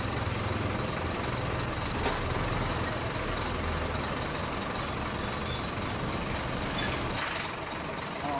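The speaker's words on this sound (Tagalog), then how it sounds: "Kaya naman ninyo, nag-umpisa na namang dumami ang sasakyan." Heavy traffic of trucks and buses on the Maharlika Highway forms a continuous broadband engine roar from a nearby roadside, with a brief air-brake hiss and faint beeps from passing vehicles.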